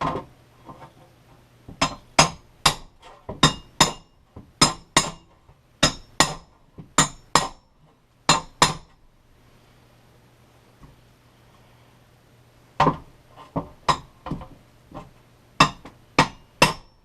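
Hammer blows land during a travel trailer floor repair: sharp, ringing strikes come in quick irregular bursts of three or four, with short pauses between groups and a long gap partway through. A low steady hum runs underneath.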